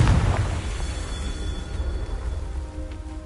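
A Confringo spell explosion in the video game Hogwarts Legacy, a heavy booming blast at the start followed by a rumbling, crackling decay that lingers under low ambient noise.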